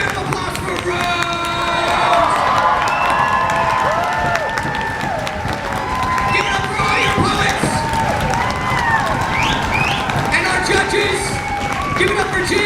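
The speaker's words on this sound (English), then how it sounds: "Give a round of applause for Rose!" Audience at a poetry slam final at a writers festival applauds and cheers loudly and steadily for the whole stretch, with whoops and shouts rising over dense clapping.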